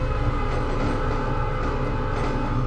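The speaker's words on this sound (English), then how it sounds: "So there goes the end of that train" A train rolling past in the Run 8 railroad simulator, a continuous dense rumble of wheels and cars at close range with a low droning tone and no talk.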